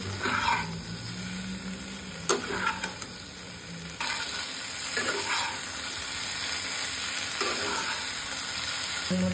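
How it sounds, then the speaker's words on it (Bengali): Vegetable curry with sugar added sizzles and fries in a pan as it is stirred, a continuous hiss with occasional scraping and knocking of the spoon, close and steady with no talking. "দিয়ে ভালোভাবে একটু কষিয়ে ঝোল দিব। তো ভালোভাবে কষিয়ে নেব।"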